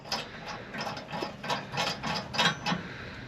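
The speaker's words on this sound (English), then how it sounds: "go ahead and place the washer and the nut on there, get it started" Metal washer and nut threaded by hand onto a bolt while fitting a receiver hitch to a 2022 Jeep Gladiator: a run of small, quick metallic clicks and rattles at a steady pace, close by, with no talking.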